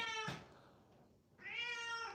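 A cat meows twice, close and fairly quiet, with a brief pause between the two drawn-out calls.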